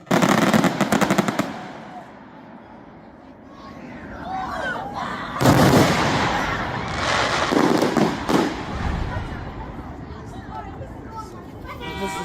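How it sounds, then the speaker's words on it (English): Fireworks grand finale of a shortened ten-minute display at a weekend party, loud rapid crackling bursts and booming volleys in quick succession, with a crowd cheering and voices throughout. "The grand finale of the fireworks."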